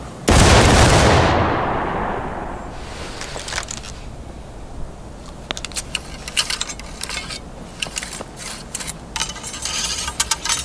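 A loud musket volley fired by a line of soldiers in the War of Rights video game, one big blast with a long rolling decay, then scattered clicks and clatter of reloading.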